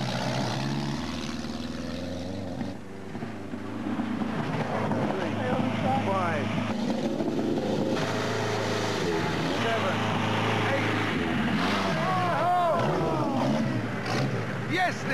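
A vintage Ford Model T engine revs hard at the foot of a steep hill before the climb. It makes a loud, sustained mechanical drone whose pitch rises and falls, close by, with some voices underneath.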